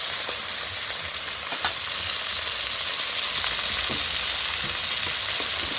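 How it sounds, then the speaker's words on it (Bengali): A fish head fries in a pan with a constant, even sizzle and a few faint clinks of stirring, no voices. "মাছের মুড়োও ভাজছি"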